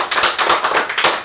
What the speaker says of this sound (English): Let's give a round of applause for kindergarten